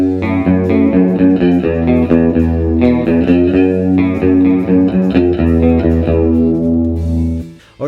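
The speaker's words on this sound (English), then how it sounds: "And then other nice to haves are things like chorus pedals." Electric guitar fed through a chorus pedal, playing a loud rhythmic sequence of chords and single notes with a shimmering, slightly warbling tone and some reverb tail, no voices present.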